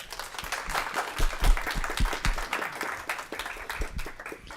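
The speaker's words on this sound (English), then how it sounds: "How about a round of applause" An audience at a community health town hall claps for a panel of local professionals, modest and uneven applause with scattered individual claps that swell briefly and then thin out.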